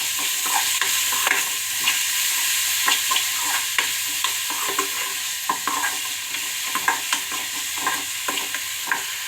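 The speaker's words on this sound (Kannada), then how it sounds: "ಹಸಿಮೆಣಸಿನ್ಕಾಯಿ ಪೇಸ್ಟ್ ಹಾಕ್ಕೊಳ್ಳಿ ಸ್ವಲ್ಪ ಫ್ರೈ ಮಾಡ್ತೀನಿ ನೋಡಿ" Green chilli paste fries in a pan with a soft continuous sizzle, punctuated by frequent scraping stirs of a spoon against the pan, close and clear with no talking.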